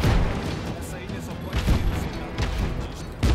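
Rapid gunfire from a weapon in Just Cause 3, a tank and helicopter island battle: loud, booming bursts of shots crack through a dense, rumbling barrage, with sharp blasts near the start, middle and end.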